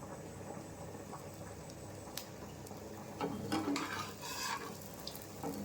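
Chapati cooking on a pan with a light drizzle of oil, a soft continuous sizzle with small crackles and pops and occasional scraping of the flatbread being turned and pressed.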